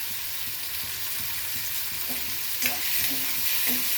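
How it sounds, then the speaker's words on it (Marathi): Soaked poha stir-fries in a pan over a high gas flame, a steady loud sizzle with soft scraping strokes of a spatula repeating toward the end, no talking. "1-2 मिनिटं मोठ्या गॅसवर परतून घ्यायचं"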